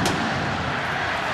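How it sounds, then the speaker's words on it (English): A cannon fires at the kickoff of a Clemson Tigers vs South Carolina Gamecocks college football game, one sharp loud boom that rolls into a sustained stadium roar. "The cannon sounds"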